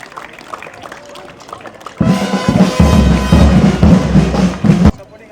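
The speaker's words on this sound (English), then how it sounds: "So big round of applause for our guest of honor as well." An audience applauding the guest of honor at a Harris Shield school cricket tournament event at Brabourne Stadium, a sustained wash of clapping that rises suddenly after a voice and then stops, with thumps mixed in.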